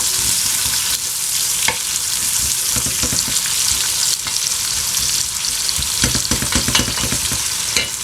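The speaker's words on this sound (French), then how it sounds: "Donc là je vais commencer à mettre mes oignons à revenir." Onions fry steadily in a mix of table oil and olive oil for a shakshuka, a loud, continuous sizzle with scattered crackles and occasional stirring scrapes throughout.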